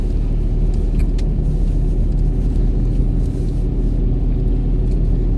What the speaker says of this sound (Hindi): गाड़ी पीछे से आएगी ना, वो हमारे को राइट साइड से ओवरटेक करके चल जाएगी